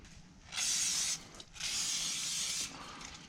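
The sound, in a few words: spraying brake cleaner and scrubbing with Scotch-Brite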